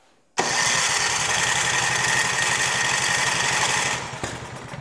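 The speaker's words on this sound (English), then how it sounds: "We did prime it a lot, but I'm gonna leave the choke on here. Let's give it a shot." A Craftsman snow blower engine, primed and with the choke on, fires and catches immediately, running loud and close with a rapid rough chugging for several seconds before the revs dip slightly.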